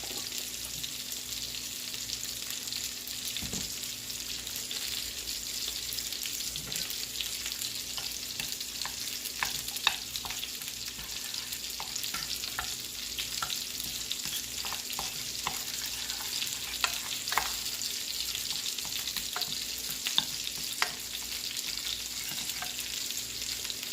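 A sauce for pork chops bubbles and is stirred in a frying pan, giving a steady sizzle with faint scrapes and clicks of the utensil throughout.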